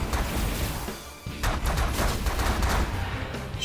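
Spaceship weapons fire in the space strategy game The Last Federation, a continuous rattling barrage of rapid shots with crashing impacts, loud and steady throughout.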